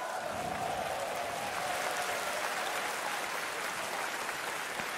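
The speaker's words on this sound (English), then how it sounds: "Round of applause for Fnatic." A large arena crowd at a Dota 2 tournament applauds continuously, a dense wash of clapping heard from a distance, with no voices.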